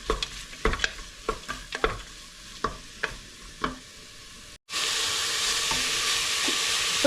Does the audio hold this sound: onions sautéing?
yes